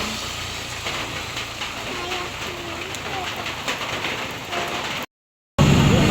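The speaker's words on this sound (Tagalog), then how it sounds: "At malakas-lakas din po ang ulan." Heavy rain pours down as a steady, dense hiss that runs throughout, with faint voices in the background and a brief dropout near the end.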